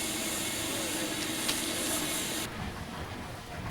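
A steam locomotive on an early passenger railway gives off a steady, loud, broad hiss that drops off abruptly partway through, leaving a softer rushing sound.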